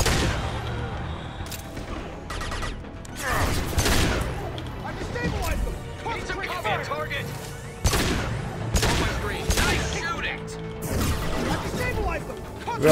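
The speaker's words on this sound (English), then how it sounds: "Garrus has firing impact shot." Gunfire in the video game Mass Effect 2 bursts out in repeated volleys and sharp impacts, loud and dense, spread across the whole stretch with game effects in between.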